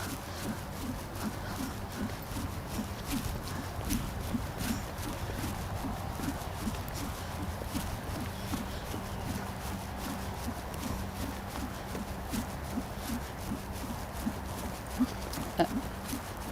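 A horse trots at an even, steady rhythm, hooves clip-clopping at a moderate distance over low background noise.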